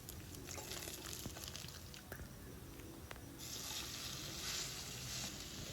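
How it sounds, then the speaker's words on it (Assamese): Bay leaves, dried chillies and panch phoron frying in hot oil make a soft, continuous sizzle with faint crackles and a few utensil taps, brightening into a hissier spatter in the latter half. "প্ৰথমতে মই তেলত তেজপাত, শুকান জলকীয়া আৰু পাঁচফোৰণখিনি দি ভাজি ল'ম।"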